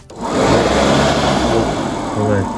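Custom heater fan in a LuAZ, built from VAZ and Moskvich parts, blowing at maximum speed: a loud, close, steady whooshing roar with a low hum that holds for the whole stretch.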